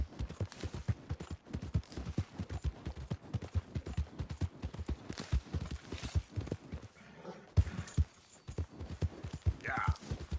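Rhythmic clip-clop of horse hooves on a hard surface in the video game Red Dead Redemption 2, steady and close, with brief pauses and a faint voice near the end.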